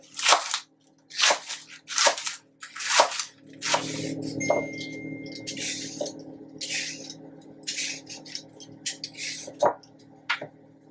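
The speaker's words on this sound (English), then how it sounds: "These are green onions. We're just going to thinly slice them." Knife slicing green onions thinly on a cutting board, a run of sharp, close chopping taps in uneven bursts, some gaps between strokes and a low hum beneath.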